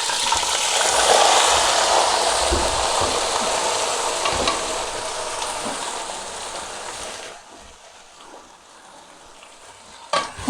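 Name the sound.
finely chopped potatoes added to hot oil and frying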